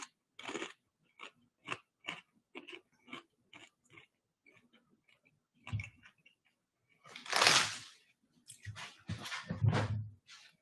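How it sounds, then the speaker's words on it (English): Crunching bites into fried cream cheese rangoons from Panda Express, a series of sharp crisp crunches close to the mic, sparse at first, then louder bursts of chewing toward the end. "Did y'all hear that crunch? That was crunchy."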